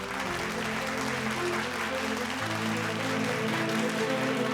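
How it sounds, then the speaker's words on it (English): A large audience claps at the Forbes India Leadership Awards 2024 ceremony, dense sustained applause filling the hall evenly from start to finish, with no speech over it. "A big round of applause,"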